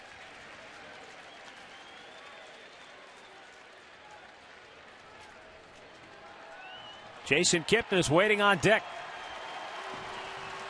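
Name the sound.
baseball crowd at Progressive Field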